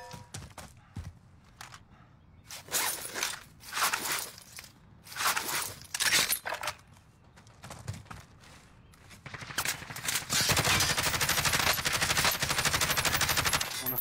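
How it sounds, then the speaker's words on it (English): Gunfire crackles in Warzone, a battle royale shooter: scattered bursts of automatic fire, some close and some more distant, building into a long sustained rattle near the end, mixed with footsteps and movement. "someone's shooting me over here"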